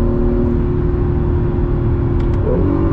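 An Acura NSX supercar cruises through a canyon, its engine a steady, loud low drone heard from inside the cabin, with a slight shift in tone near the end.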